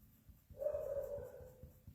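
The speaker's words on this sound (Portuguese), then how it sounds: "se tiver vazando pra vocês o barulhinho de cachorro, é que na minha vizinhança tem bastante pet" A neighborhood dog barks faintly in the distance, one drawn-out yelping cry over a quiet background hum, with no talk.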